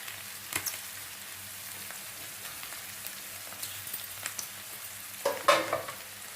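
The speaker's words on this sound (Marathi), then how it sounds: "आपलं मटर मऊ झालेलं आहे आणि पनीरही फ्राय झालं आहे" Peas and paneer frying in a kadhai, a steady soft sizzle with faint crackles throughout, rising to a few louder spatters near the end, with no talking.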